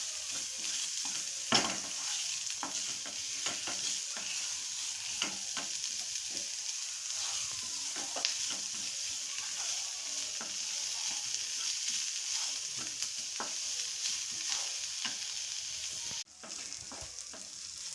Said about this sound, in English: We will cook the onions until they are golden brown and nicely done.